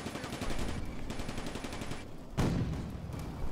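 Tanks and infantry fire in a Combat Mission WWII game with Panzer III and IV tanks, giving rapid machine-gun bursts, a pause, then a heavy cannon boom followed by more gunfire, all fairly quiet.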